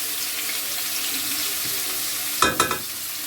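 Chopped onions fry in a pan with a steady, hissing sizzle throughout, close by, followed near the end by a few sharp clattering knocks of a utensil, with no one talking.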